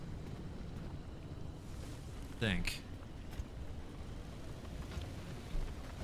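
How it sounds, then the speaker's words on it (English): A spinning blade sweeps past in the survival driving game Pacific Drive: one quick rising-and-falling whoosh over steady wind-like rumble, with someone briefly talking. "I believe that's the sound of the blade."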